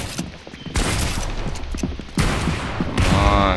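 Rapid video game gunfire crackles in dense, loud bursts, with a brief lull between volleys before heavy shooting resumes.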